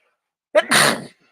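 A single sharp sneeze from one person, loud and close, with a brief silence before and after.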